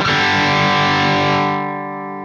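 Electric guitar chord ringing through an MXR Echoplex preamp pedal, loud and sustained, then dropping in level and brightness partway through as the gain is turned down, leaving a softer, duller ring.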